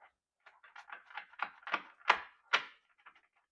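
Cards are shuffled by hand in a series of quick, rising papery flutters and soft slaps, close and fairly quiet.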